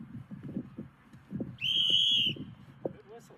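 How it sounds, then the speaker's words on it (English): A single sharp, steady referee whistle blast lasting under a second at a referee training class, rising clearly above a busy background of chatter and crowd noise. "Good whistle. These are definitely better whistles than the first."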